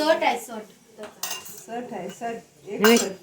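Steel utensils, bowls, a kadai and glasses, knocked and handled together, giving a few bright metallic clinks and clanks at close range in bursts with short quiet gaps.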